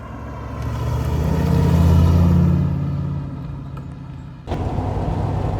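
An MGB GT V8 engine pulls hard while the car drives, a loud, deep rumble that swells to a peak, eases off, then picks up again with a sudden change near the end.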